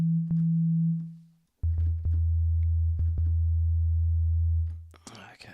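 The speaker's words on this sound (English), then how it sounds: "It's just a simple bass sound." Simple hip hop bass from Ableton Operator oscillator A, a pure, smooth low sine-like tone holding long notes, one stepping down to a deeper sustained pitch, with faint clicks and a brief noise at the end.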